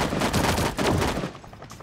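Rapid bursts of gunfire in an online shooter video game, loud and dense for over a second before fading into quieter game sounds.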